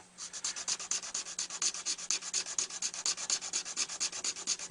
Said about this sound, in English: double O jeweler's file, I guess.